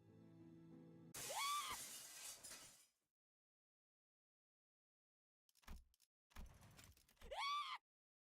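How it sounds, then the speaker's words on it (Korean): A glass window shatters in the video game Limbus Company: a loud crash with ringing shards, then silence, then a few scattered glass clinks and a second bright tinkling burst. "유리창이 깨졌다."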